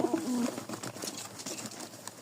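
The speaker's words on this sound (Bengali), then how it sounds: "এই দেখছেন ডাক কবুতরের" A pigeon gives a short, low cooing call close by at the start, then quieter rustling and faint background sounds follow.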